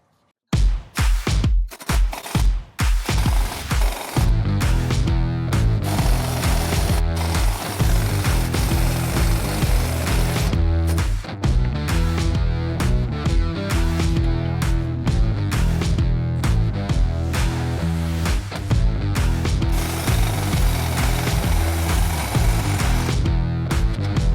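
An impact gun hammers at the bolts on a broken driveshaft, starting with a few short bursts and then running as a loud, continuous rattling drone for most of the clip, with no talk.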